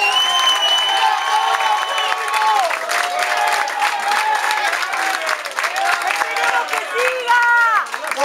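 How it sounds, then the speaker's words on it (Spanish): A crowd applauds during a plaque presentation honoring a supporter, with steady clapping blended with loud cheering and overlapping voices, sustained across the whole stretch. "Así que un aplauso para Pablo."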